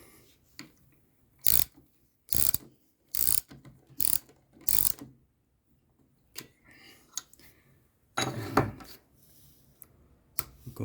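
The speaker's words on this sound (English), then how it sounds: "So now we put the nut all the way in again." A ratchet wrench tightens a nut on K-Tech suspension parts of a Honda CRF300L motorcycle, close rapid clicking bursts repeated five times, then a few lighter taps and a longer rattling run near the end.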